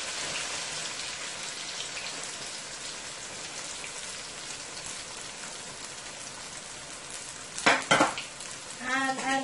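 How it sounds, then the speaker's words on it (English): Garlic, onion and chili pepper sizzle in oil in a pot, a steady close crackle throughout, with a few louder stirring scrapes and clatters near the end. "Let it fry and marinate into the oil for about a minute or two."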